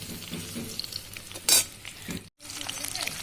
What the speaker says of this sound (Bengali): আমার দেখো পকোড়া ভাজা হয়ে গেছে